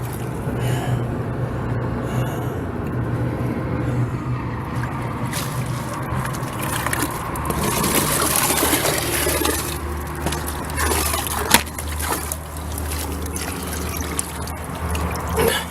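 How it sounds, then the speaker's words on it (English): Water rinsing over the sluice mat of a gold trommel wash plant on a creek, a steady rushing splash with machinery rumble underneath, continuous throughout without any talk. "Me rinsing off the mat."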